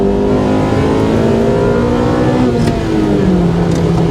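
A Honda Civic EK9, front-wheel drive, pulls hard out of a corner on a mountain road, its engine loud and close as the revs climb and then drop briefly at a shift before rising again.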